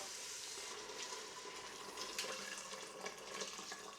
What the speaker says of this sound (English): So next to go in is our 850 mils of just boiled water.